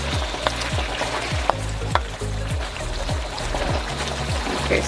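Pork adobo simmering in a pan, with a continuous bubbling sizzle and liquid gurgle and repeated sharp clinks of a spoon stirring against the pan, close and steady.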